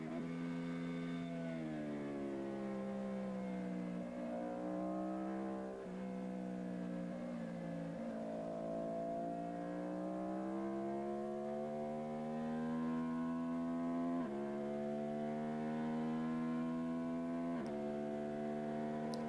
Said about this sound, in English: There goes a Kawasaki ZX6.